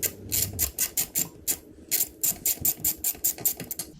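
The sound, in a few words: ratchet removing hex head bolt from Yamaha Vmax rear axle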